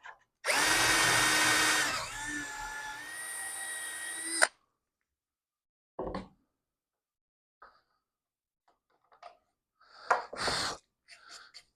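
A power drill with the supplied bit bores a dowel hole in scrap wood guided by a doweling jig, a loud whirring burst of about four seconds close up, followed by quiet clicks, handling knocks and breathing.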